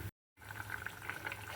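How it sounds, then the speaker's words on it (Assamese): A pot of curry with fried pakoras added comes to a boil, giving a soft, steady bubbling and simmering hiss after a brief silent gap at the start. "এয়া আমাৰ পানীখিনি ধুনীয়াকৈ উতলি আহিছে তৰকাৰীখন"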